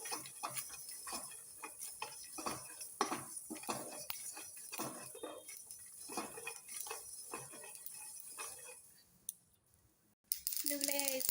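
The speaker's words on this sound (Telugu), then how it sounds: "నువ్వులు కూడా వేయించేస్తున్నానండి." Sesame seeds roasting in a pan for a dondakaya masala curry, heard as rapid dry ticking and light clattering of a utensil against the pan, continuing steadily before fading out near the end.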